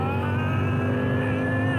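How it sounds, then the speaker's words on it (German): A tuned BMW M6 accelerates hard with a loud, continuous engine roar and rising tone, close and steady with no voices. "In unter 4 Sekunden bollert der BMW auf Tempo 100."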